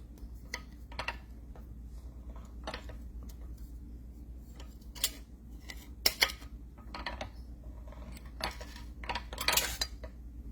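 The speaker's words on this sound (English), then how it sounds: "We're just going to chop some metal off of it and kind of see where we end up." Scattered sharp metallic clicks and clanks from chopping metal to shape a cuff, irregular single and doubled hits with quiet gaps between, close and crisp over a low steady hum.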